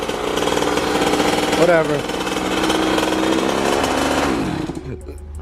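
KTM 50SX dirt bike engine running loud and close, a harsh buzzing two-stroke drone that rises briefly and then cuts off near the end, with a short spoken word over it.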